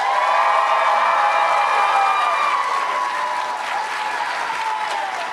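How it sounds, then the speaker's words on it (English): A live audience at a food-themed show breaks into loud, sustained applause with cheering and whoops, a dense wall of clapping throughout. "I need to hear the loudest possible applause"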